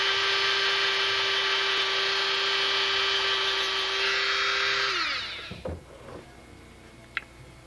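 A power drill runs steadily while drilling a hole, giving a loud, close whine that holds for about five seconds, then winds down and stops. A few small clicks and handling knocks follow, and no one speaks.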